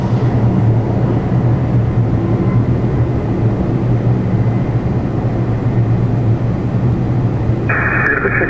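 An Air Canada airliner takes off from runway 24 right at Toronto Pearson: a loud, steady engine roar with a deep rumble runs unbroken throughout, and a higher steady tone joins it near the end.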